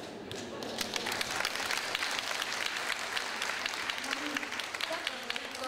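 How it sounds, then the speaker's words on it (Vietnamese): A concert audience at the live show Noi Long Nguoi Di applauds with steady, dense clapping that holds throughout, with voices mixed in underneath. "Chắc có nhiều người là đồng tình với chị nên vỗ tay."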